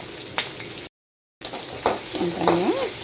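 Green and dried chilies, two of each, sauté in hot oil with a light, continuous sizzle and occasional stirring scrapes, interrupted by a brief silent gap before the frying resumes.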